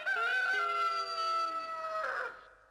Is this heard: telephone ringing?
no